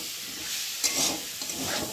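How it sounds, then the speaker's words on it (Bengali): Potatoes frying with poppy seed paste, stirred in a pan for aloo posto; a steady soft sizzle runs throughout, with brief louder stirring scrapes near the middle, close and alone with no voices. "তো চলো আমি এখন ভালো করে আলুর সাথে কষিয়ে নিই পোস্তটা।"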